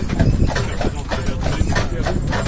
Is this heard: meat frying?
no